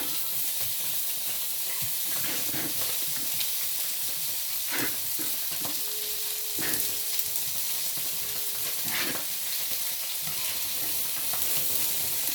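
Onions fry in a pan with potatoes, giving a steady, loud sizzle and hiss with occasional stirring scrapes, heard alone with no talk.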